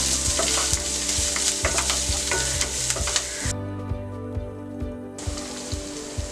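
Grated garlic and ginger sizzle and fry in a hot pan for egg fried rice, with steady frying crackle and repeated spatula stirring scrapes throughout, close and fairly loud.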